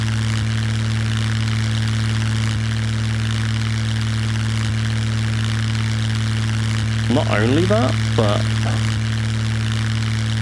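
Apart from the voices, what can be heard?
Kinglet Mariner plane engine running, video game Scum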